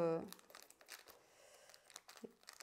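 Close crinkling and rustling of plastic packaging in irregular bursts, following a brief voice at the start.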